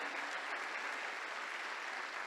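Steady, dense applause from a church congregation giving praise during a sermon, an even wash of clapping with no break and no talk over it.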